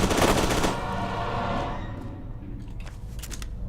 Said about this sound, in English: So much use of the submachine gun.